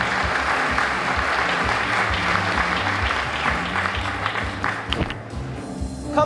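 An audience at a Teacher of the Year event gives a sustained round of applause, thick even clapping that continues throughout and thins slightly toward the end.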